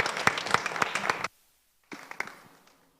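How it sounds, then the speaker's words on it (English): A short burst of clapping from a small group, stopping abruptly, then a second, thinner round of claps that fades out. "Can you give her a round of applause?"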